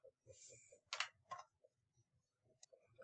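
A rapid series of light plastic calculator key clicks, close and fairly quiet, with brief pauses between taps.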